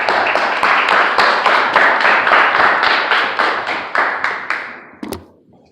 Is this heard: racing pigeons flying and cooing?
no